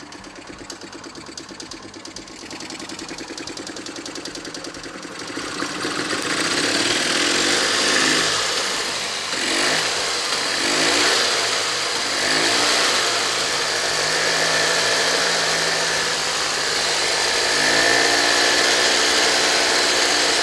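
An EZGO golf cart engine cranking and then catching, settling into a steady running drone that holds loud and close, with no talking over it.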